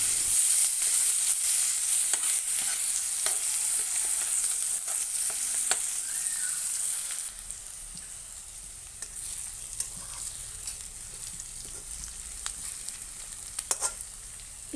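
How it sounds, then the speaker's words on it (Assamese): Onions and a bay leaf fry in a pan with a loud, steady sizzle. The sizzle drops to a softer hiss about halfway through, with a few scrapes from stirring. "তাৰপিছত মই ইয়াত এতিয়া পিঁয়াজ দি দিম, আৰু গোটেইখিনি অলপ সময় ভাজি ল'ম"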